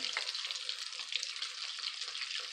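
Battered zucchini fries sizzling steadily in hot oil in a pan, a dense, continuous crackling hiss that stays even and close throughout without any voices.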